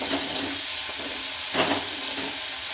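Onion frying in hot oil, a dense, steady sizzling hiss with a brief surge partway through, close and continuous.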